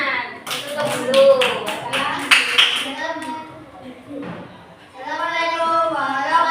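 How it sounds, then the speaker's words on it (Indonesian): Young schoolchildren clap in a classroom, a burst of quick overlapping claps that fades into chatter and a teacher's voice. "Kasih tepuk tangan."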